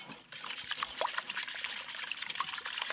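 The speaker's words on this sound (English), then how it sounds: "we're gonna add about a half a cup or so, I don't measure it, of cream, or half and half" Cream or half and half poured into whisked eggs in a kitchen while making a migas casserole, a steady close liquid trickle and splash running throughout with no talking.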